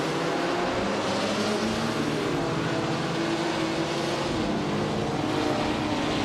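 Race cars in a racing video game, a steady, loud engine drone with shifting pitch as cars run nose to nose, continuous throughout with no talking.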